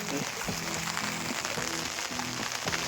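Heavy monsoon rain pours steadily outdoors during a crab-catching trip, a dense continuous hiss with someone talking over it.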